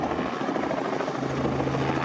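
A Robinson R44 helicopter lifting off at a civil airfield makes a steady, close whirring rotor chop with a low engine hum, loud and continuous without voices.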